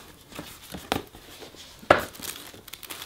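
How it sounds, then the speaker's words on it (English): Tissue paper crinkling while unboxing a Chanel 19 pearl mini flap bag, a few soft rustles with two sharper crackles, close and fairly quiet, with no talk. "You've got the tissue paper."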